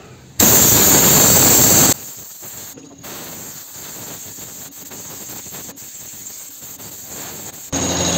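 A compressor-powered mini washing spray gun blasting foam onto a carburetor, a loud steady hiss for about a second and a half, then quieter spraying and clattering textures, with a second hiss starting at the end.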